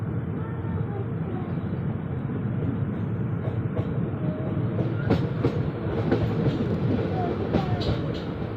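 A train slowing toward a station rumbles steadily along the rails in rain, with a rhythmic clatter of wheels and faint voices in the background throughout.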